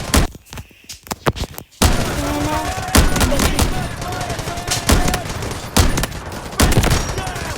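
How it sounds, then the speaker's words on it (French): Sniper rifle shots in a video game crack out as several sharp, separate reports spaced a second or two apart over a busy battlefield din, with faint voices mixed in. "ce fusil de précision, il est incroyable."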